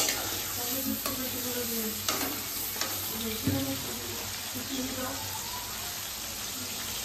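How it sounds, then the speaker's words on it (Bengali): Spice paste being stir-fried in a pan for a fish curry, a continuous close sizzle and hiss with occasional soft scrapes and knocks from the stirring utensil, and faint talk underneath. "মশলাটা ভালো করে নুন হলুদ দিয়ে কষাতে হবে"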